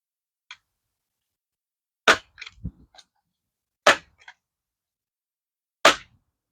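A Crosman 362 air rifle fires in a backyard at a hanging Dr Pepper can. Three sharp, close cracks come roughly two seconds apart, with small clinks and knocks between them against near silence.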